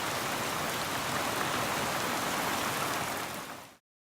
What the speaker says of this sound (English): It is not raining, it is pouring.